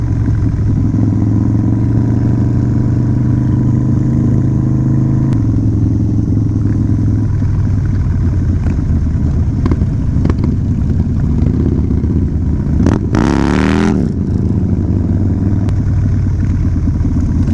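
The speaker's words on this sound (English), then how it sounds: "There's so many fucking bikes here today." A large group of motorcycles on a Harley-Davidson dealer's charity ride rumbles loudly and steadily nearby, engines idling and pulling off together, with a brief sharp burst of revving or a horn-like blare partway through.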